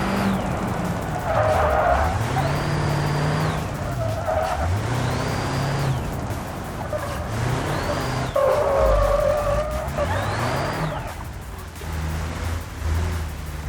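A car in BeamNG with locked rear differentials drifts through repeated slides, its engine revving and dropping while tyres squeal in four long, rising and falling skids, loud and close.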